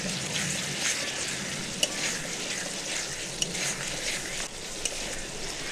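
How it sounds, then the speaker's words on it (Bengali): Spiced masala paste for a Bihari-style egg curry is fried in a pan with a little water and chopped green chillies, giving a soft, steady hissing sizzle with a few faint clicks of stirring. "মশলাটা কষে নিচ্ছি"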